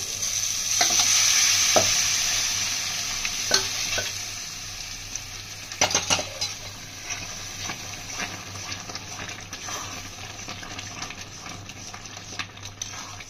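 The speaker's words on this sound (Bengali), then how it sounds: "মশলা কষা হয়ে গেছে, আমরা ডালটা দিয়ে দেবো।" Lentils go into fried spices in a pan for dal tadka, raising a loud, bright sizzle with scraping stirs and clinks of a spoon, and the hiss gradually settles into a softer bubbling fry.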